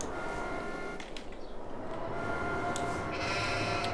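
Sheep on a farm in Farming Simulator 22 bleat faintly over a steady low ambient hum, with a few brief higher calls standing out near the end.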